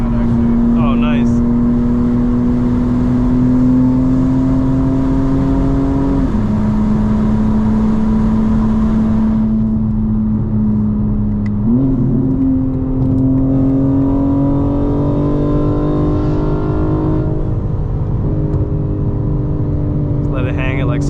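A fully modified 2025 BMW M4 Competition xDrive at a car meet holds its engine at high revs, a loud, steady droning growl that dips briefly in pitch twice, with voices faintly underneath.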